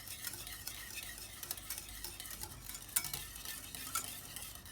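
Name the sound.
stirring chutney into yogurt raita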